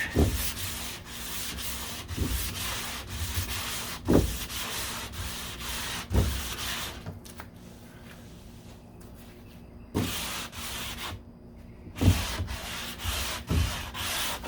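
A long sanding block rubs back and forth across the deck lid of a 1969 C3 Corvette in repeated rasping strokes, with sharper accents at roughly two-second intervals and a short pause midway.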